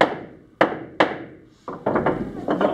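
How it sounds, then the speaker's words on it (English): Sharp hammer blows strike wooden boards, two distinct hits with ringing decay, then a cluster of quicker, duller knocks and taps close by. "I have to hammer them and put the screw in really tight."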